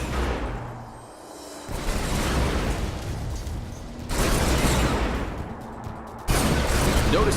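Zone troopers fire on a damaged building in Command & Conquer 3, producing repeated heavy bursts of weapon fire and mechanical booms. The loud volleys come in several distinct waves with brief lulls between them.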